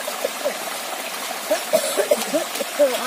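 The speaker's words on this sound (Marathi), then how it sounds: "आता इथे धुतायत स्वच्छ पाण्यामध्ये" Freshly picked vegetables being washed in clean water on a village farm, with steady trickling and splashing water and soft sloshing movements throughout, fairly close.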